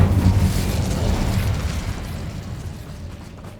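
Incendio fire spell from Hogwarts Legacy bursting in a loud, close blast with a roaring whoosh that slowly fades over a few seconds.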